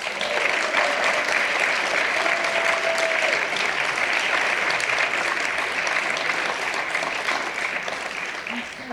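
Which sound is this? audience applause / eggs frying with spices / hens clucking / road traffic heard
audience applause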